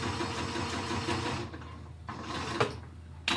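A sewing machine runs steadily as it top stitches close to a blind hem fold, a close mechanical whirr that stops partway through, followed by a few sharp clicks and knocks, with no talking.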